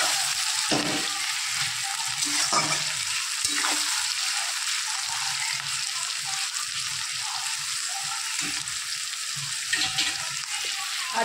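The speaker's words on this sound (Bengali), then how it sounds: "পেঁয়াজগুলো ভাজা করে নেব।" Onions sprinkled with salt fry in a pan for a spiced chicken kosha, producing a constant loud crackling sizzle up close with occasional soft stirring knocks underneath.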